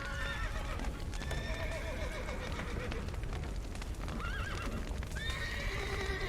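Several horses whinny and neigh over a steady clatter of hooves in the video game The Witcher 3: Wild Hunt, dense and continuous, with a faint voice underneath.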